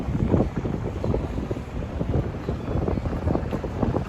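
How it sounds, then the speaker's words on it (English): Strong wind gusts along a New York City street near 8th Avenue, a steady, loud roar buffeting the microphone with no talk over it. "this is when it gets to be really windy"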